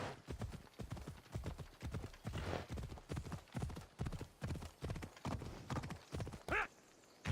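Rapid hoofbeats clatter in a steady galloping rhythm, loud and close, with a brief horse whinny near the end, in the video game Assassin's Creed Odyssey.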